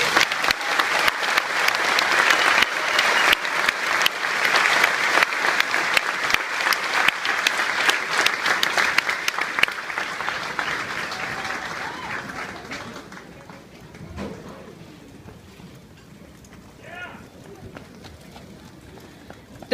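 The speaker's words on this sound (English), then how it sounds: "please give these soldiers a round of applause" A large outdoor crowd at an Army family day event at Fort Jackson gives soldiers sustained, loud applause for about thirteen seconds, then it dies down to sparse claps and faint background voices.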